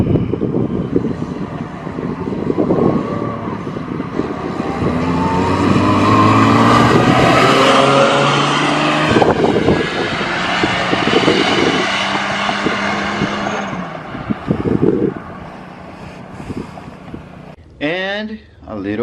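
Loud, revving engine of a BMW E46 drift car swapped with a Toyota 2JZ, pulling hard during tuning runs, with rising and falling sweeps and a voice heard over it; the engine fades near the end as the pull finishes.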